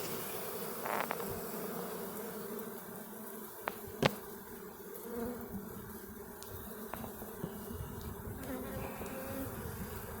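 A honey bee swarm hums steadily around a large hive, a dense continuous buzz with individual bees zipping past close by, heard alone without talking.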